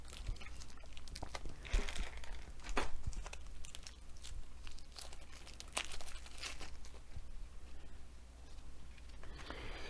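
Wrapped cards from the John Company board game being torn open: quiet crinkling and rustling of plastic wrap, with short sharp tearing bursts scattered throughout, all close and soft.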